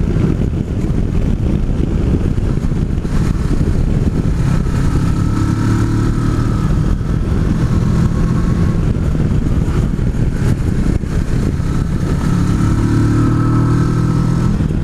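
A 2017 Kawasaki Versys 650 motorcycle on the move, a loud steady engine drone mixed with heavy wind rush, with pitch rising and falling as the rider shifts, no speech.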